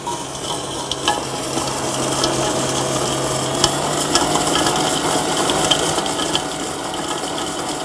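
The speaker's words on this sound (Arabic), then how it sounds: "نبتدي نضرب دول مع بعض، الزبدة ونوعين السكر" An electric mixer beats butter and two kinds of sugar together for caramel cupcakes, giving a steady, close whirring drone with rhythmic scraping and rattling of the beaters in the bowl.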